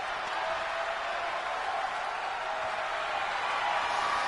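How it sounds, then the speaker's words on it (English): Game crowd from WWE 2K25 forms a steady, even wash of arena noise throughout, a faint distant roar with no distinct cheers standing out. "you can sometimes hear the crowd"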